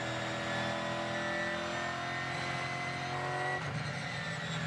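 A Gen3 Supercars race car at Bathurst drones loudly and steadily with a rich, buzzy engine note that shifts pitch slightly near the end, with no talking.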